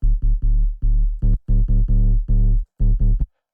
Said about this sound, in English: you can get just a very crunchy bass